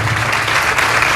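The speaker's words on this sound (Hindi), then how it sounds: "कि जोरदार तालियां बजाएं," A brief burst of loud, dense clapping from a congregation at a church service celebrating the resurrection of Jesus, filling the moment with no break.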